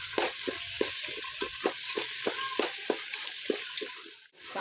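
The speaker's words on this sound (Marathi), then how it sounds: "आणि आता 5 मिनिट आपल्याला गाजरला छान तुपामध्ये परतून घ्यायचं आहे" Carrots sauté in ghee in a pan. A steady close sizzle runs under regular stirring strokes, each a short scraping tap repeating roughly twice a second.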